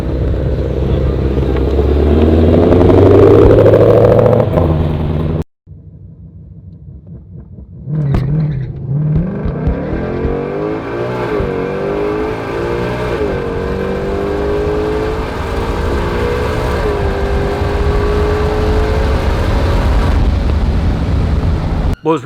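A 2020 Ford GT500 Mustang roars loudly on a drag strip run, its engine climbing in rising pitch sweeps. After an abrupt cut, the rumble returns and the car accelerates through several gear changes with a steady, powerful drone.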